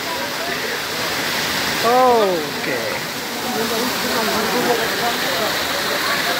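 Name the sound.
Himchhari waterfall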